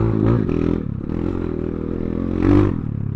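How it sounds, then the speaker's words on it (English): Kayo K2 230 four-stroke dirt bike engine revving on sand, a loud, close, barky idle that rises in two quick throttle blips. "this 230 is a lot more barky than I would have imagined it be firing up at the shop"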